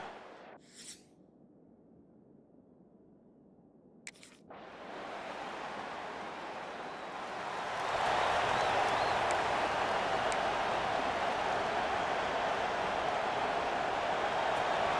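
A broad roar of video game stadium crowd noise at a Texas A&M college football game swells after a brief quiet start, rising to a loud, steady wash of cheering that continues without letup.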